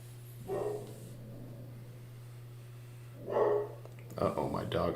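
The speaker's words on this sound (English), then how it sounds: "Uh-oh, my dog's barking." A pet dog barks inside a house, sounding off in two short bursts a few seconds apart over a low steady hum, followed by a brief voice at the end.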